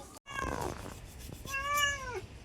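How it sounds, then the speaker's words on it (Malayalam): A cat meows twice, close and clear, the second call long and drawn out, with no voices over it. "എന്താ പൂച്ചേ"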